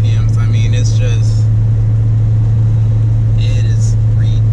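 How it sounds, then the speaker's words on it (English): An LS-swapped Datsun 280Z cruises at about 40 mph and 1500 RPM, its engine a steady low hum heard from inside, with soft speech intermittently over it. "I'm doing 40 miles an hour right now, and the car is at about 1500 RPMs"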